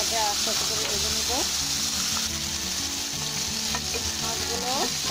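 Pieces of fish fry together in a pan of hot oil, giving a continuous close sizzle with occasional stirring scrapes and oily crackles, part of a bitter gourd and potato fish curry.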